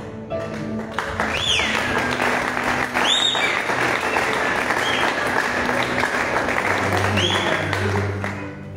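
A youth entrepreneurship conference audience breaks into loud, dense applause that holds steady throughout, with occasional whoops and cheers rising above the clapping.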